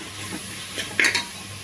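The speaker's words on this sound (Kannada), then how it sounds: "ನೆಕ್ಸ್ಟು ಸಾಲ್ಟು ನಾವು ಮಿಕ್ಸ್ ಮಾಡಿ ಚೆನ್ನಾಗಿ ಮಿಕ್ಸ್ ಮಾಡ್ಕೋಬೇಕು" Food being mixed with salt in a pan, a soft frying sizzle under a few scraping stirs and a short sharp metallic clink of utensil against the pan.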